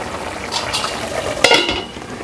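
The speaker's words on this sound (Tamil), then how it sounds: "இந்த பக்கம் வந்து மட்டன் வெந்துட்டுருக்குது." Mutton simmering in a pot in a home kitchen, with a steady bubbling and cooking hiss underneath, plus faint clinks of a utensil and one sharper metallic knock on the pot, no talking.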